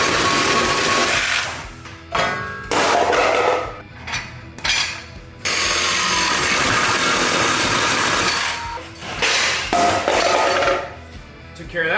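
Cutting tool slicing off the mufflers of a 1969 Camaro, loud harsh grinding bursts that start and stop in several pulses, near and dominant, with clanks and short gaps between cuts.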